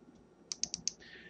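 Computer keyboard keys pressed in a quick run of four crisp clicks, close and fairly quiet over a faint room hum, with no talking.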